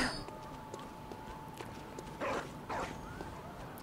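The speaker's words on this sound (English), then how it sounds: "I hear doggy" A dog barks twice in the dark horror game Bloodborne, short harsh yelps standing out at mid distance over a steady droning ambience and faint game noises.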